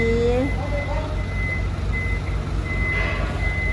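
Ten-wheel truck reversing, its backup alarm beeping in a steady, evenly spaced rhythm over a low diesel engine idle, with a voice and other speech audible near the start.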